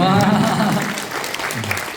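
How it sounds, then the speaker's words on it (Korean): Audience applause at a political book concert in Korea, a dense wash of clapping with voices mixed in under a loud amplified hall sound. "큰 박수 부탁드립니다."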